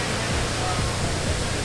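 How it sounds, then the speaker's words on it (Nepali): A water mist spraying system at an airport gives a steady, dense broadband hiss, like rushing spray, close and constant throughout the short stretch. "धुवा उडिरहेछ, पुरा स्प्रे भइरहेछ।"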